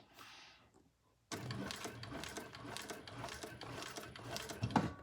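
Sewing machine stitching a crossbody bag: after a soft rustle and a moment of quiet, a fast, steady needle chatter starts abruptly and runs continuously, close and moderately loud, with a small clack near the end.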